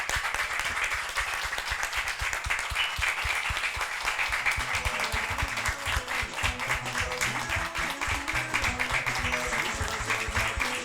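Sustained audience applause fills a TV studio during a one-minute tribute, continuous clapping carrying throughout while music with a steady beat plays underneath.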